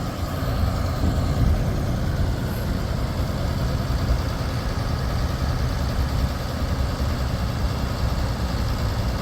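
A 2013 Ford F-750 with a 75 ft Altec forestry bucket boom runs through a boom demonstration with its outriggers down. A steady, close diesel drone and low hydraulic rumble continue without pause.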